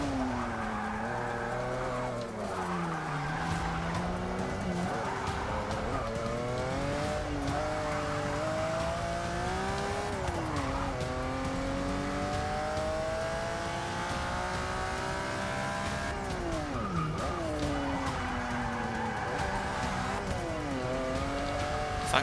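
A 1986 Lamborghini LM 002 in Forza 6 revving hard through repeated upshifts, engine pitch climbing and falling with each gear, with tyre squeal and skidding mixed in, loud and continuous throughout.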